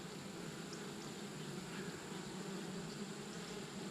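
Honeybees buzz around an open hive with capped brood frames exposed, a steady, even hum of many wings close by, faint overall and without pauses.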